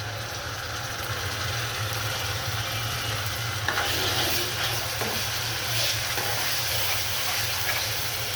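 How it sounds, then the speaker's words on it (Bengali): Spices stir-fried with liver and potato in a pan, with a steady low sizzle and occasional scraping stir strokes running throughout, fairly close and continuous, with no voices. "এভাবে সুন্দর করে আবারও কষিয়ে নিব মশলাটা"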